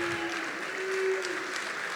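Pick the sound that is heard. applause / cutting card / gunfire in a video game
applause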